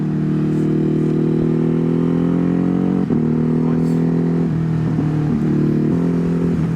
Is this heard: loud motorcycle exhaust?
yes